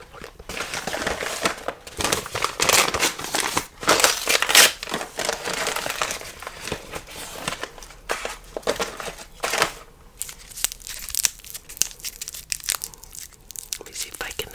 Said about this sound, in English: Let me see if I can unwrap this little. Sometimes they get a little bit sticky inside this little wrapper